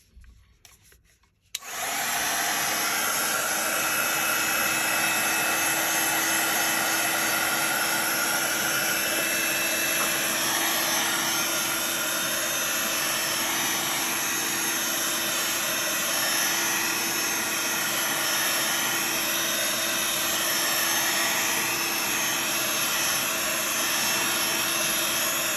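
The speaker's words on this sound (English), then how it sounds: "Now I'm going to quickly give that a burst with my heat gun" Heat gun blowing hot air over a textured card background, switching on after a short quiet moment and then roaring steadily and loudly, close by, for the rest of the stretch.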